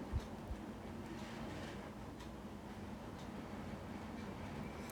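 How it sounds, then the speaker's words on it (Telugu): A low, steady rumble of a train rolls past at a distance, continuous and faint, with no talking. "ఏం ట్రైన్."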